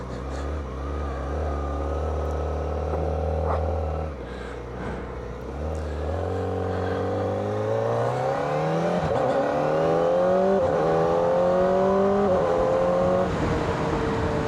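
A 2025 Kawasaki ZX-4RR sport motorcycle engine revs steadily while riding, its loud, close four-cylinder whine dropping briefly then climbing higher and higher in pitch through the gears.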